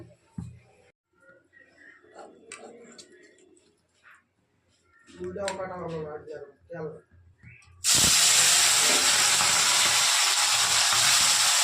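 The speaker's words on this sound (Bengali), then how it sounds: "মাছটা ভেজে নিচ্ছি।" Loud, steady sizzling of morola fish frying in hot oil in a wok bursts in partway through, following quieter kitchen sounds and talk.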